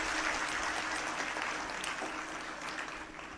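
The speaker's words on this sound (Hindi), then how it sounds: "आप तालियां बजा रहे हैं" Steady applause from a crowd, dense clapping sustained throughout with no voices standing out.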